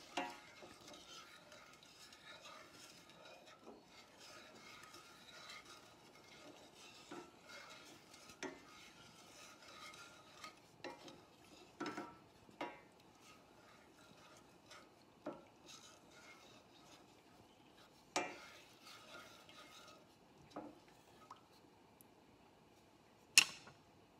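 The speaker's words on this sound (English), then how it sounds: "So now I'm going to stir this and bring it to a boil." A spoon stirs and scrapes softly around a pan of sweetened teriyaki sauce being brought to a boil, with quiet irregular clinks and a faint sizzle, fairly close and otherwise calm.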